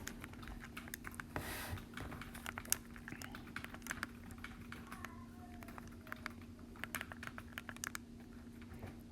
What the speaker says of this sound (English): I'm going to type that in real quick.